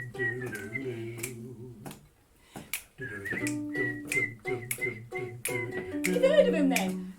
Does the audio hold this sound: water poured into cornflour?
no